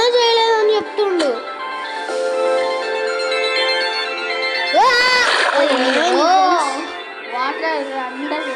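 A water splash in the video game Minecraft stands out among bright, tonal game sounds, while young voices talk and exclaim loudly over it for most of the stretch.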